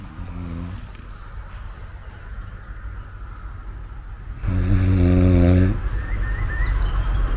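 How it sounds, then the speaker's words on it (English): A person snores inside a tent at a camping spot, a few drawn-out rasping breaths, the last one loud and close, over quiet outdoor background noise. "Apart from snoring, it's alright."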